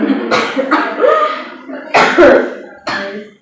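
A person coughs several times in harsh, close bursts, with short gaps between the fits and some throaty breathing.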